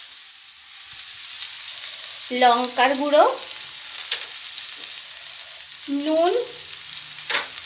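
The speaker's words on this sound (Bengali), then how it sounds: "তো সবটা এবার ভালো করে মিক্স করে নেব আর একটু ভেজে নেব।" Dal and fried potatoes crackle in a kadai, a steady low sizzle running throughout while someone speaks briefly twice over it.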